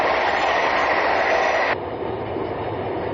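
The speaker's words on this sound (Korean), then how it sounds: "함안역을 지나는 기차가 하루 24차례 오고 갑니다." A train passes on the railway near Haman station beside a pig farm, a steady loud rumbling roar that drops abruptly in level halfway through and continues more muffled, with no voices.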